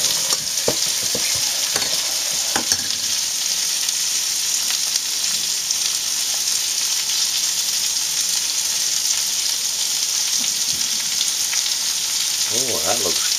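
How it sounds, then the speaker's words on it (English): Pork tenderloin dish cooking on a stovetop, with a pot of liquid at a rapid boil giving a steady, dense bubbling and sizzling hiss throughout, a few clinks of stirring, and a faint voice near the end. "Okay, we do definitely got a rapid boil there."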